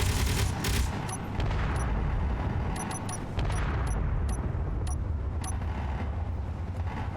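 Ship guns fire in a video game, sharp bursts and volleys of gunfire sounding repeatedly over a dense, rumbling mechanical background.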